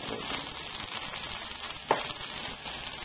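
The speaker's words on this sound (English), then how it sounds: "And let the hash browns cook." Hash browns fry in a hot pan for breakfast tacos, giving a steady, close crackling sizzle that runs throughout, with one brief louder pop or clink near the middle.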